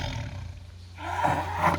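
A tiger gives a breathy, rumbling roar, low and gravelly, swelling louder toward the end of the short burst, heard close with no voices.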